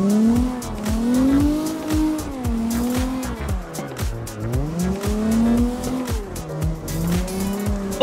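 In an arcade racing video game a car drifts with a loud, continuous engine whine that rises and falls, while sustained tire squeal and skidding run under it throughout.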